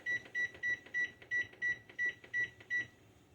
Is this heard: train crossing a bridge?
no